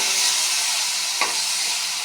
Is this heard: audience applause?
no